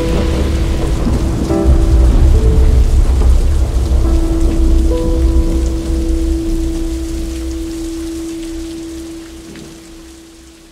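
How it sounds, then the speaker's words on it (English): Heavy storm rain hisses steadily while deep thunder rumbles loudly in the first seconds, the whole downpour slowly fading toward the end; a sustained tonal hum runs through the middle as well. "A storm is coming."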